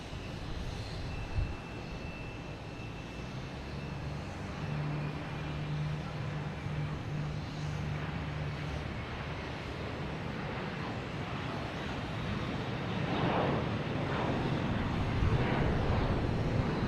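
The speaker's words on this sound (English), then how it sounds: "We have JetBlue here heading to San Francisco." A JetBlue jet airliner at Boston Logan Airport heard as a steady, loud engine roar that builds slightly toward the end, mixed with wind noise on the microphone.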